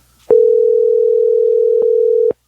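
A single steady old-fashioned telephone ringtone holds at one pitch for about two seconds, loud and continuous, then cuts off abruptly.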